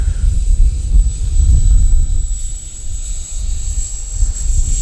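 An Arrows RC Marlin 64 electric model plane with a landing gear modification runs up for takeoff from grass, its high thin motor whine steady over rumbling wind and ground noise, close and loud.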